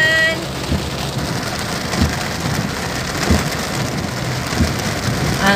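Heavy rain pours steadily, drumming on a surface as a dense hiss, with a few low thuds breaking through.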